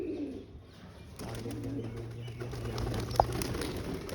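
A female pigeon makes low, soft cooing sounds close by, with a faint brief flutter and a light click against a quiet background hum.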